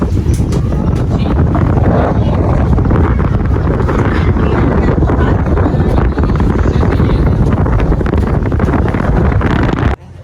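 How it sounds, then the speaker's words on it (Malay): Wind gusts across the colourful Putra Bridge, buffeting the microphone with a loud, continuous rumbling roar that holds steady for about ten seconds before cutting off abruptly. "View dia. Ada angin ya."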